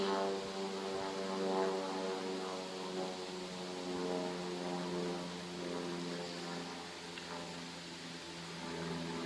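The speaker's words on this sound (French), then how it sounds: "il y a un avion qui passe au-dessus," Airliner passing overhead, heard as a steady, broad engine roar with a fixed harmonic hum underneath, holding an even level throughout with no voices.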